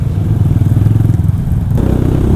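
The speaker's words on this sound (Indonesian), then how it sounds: "speaker knalpot yang ala-ala 4 silinder ini" An exhaust sound booster speaker on a motorcycle plays a synthetic four-cylinder engine note, a steady, buzzing low drone that holds close and loud, then shifts slightly in tone toward the end.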